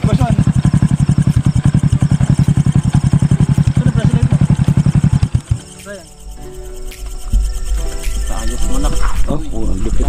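A motorcycle engine idles close by with a steady rapid thumping pulse for about five seconds, then cuts off, followed by quieter rumbling and outdoor ambience.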